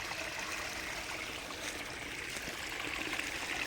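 River water flowing steadily along a riverbank, a soft continuous rushing and trickling at moderate distance with no voices.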